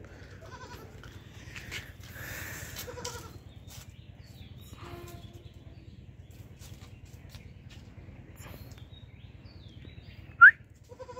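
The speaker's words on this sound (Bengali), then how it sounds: "হচ্ছে আমাদের শখের একটি ছাগল।" A domestic female goat on a small home farm gives a brief bleat amid a low constant background hum, with faint rustling and a sharp, louder call near the end.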